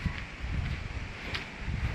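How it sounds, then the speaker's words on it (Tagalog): Strong wind buffets and rumbles steadily against a house and its tarpaulin, a low, gusting roar with no voices. "Talagang lakas-lakas ng hangin."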